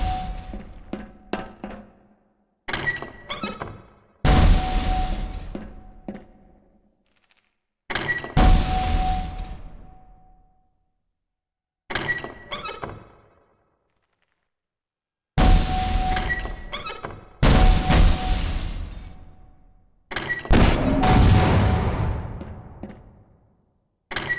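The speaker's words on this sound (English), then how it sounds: "To fire your grenade launcher, use your alternate fire button." Grenade launcher fire and exploding targets in the game Half-Life's hazard course: a series of loud blasts with glassy breaking, each followed by a decaying tail and short silences between bursts.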